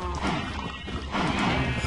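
Horses in the Minecraft video game, tied up with a lasso, snort and whinny in short close bursts over a continuous noisy background.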